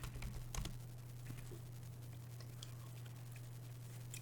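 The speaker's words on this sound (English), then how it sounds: "I'm going to type bank" Someone types a short Linux command on a computer keyboard in a few faint key taps, quiet and brief, over a steady low electrical hum.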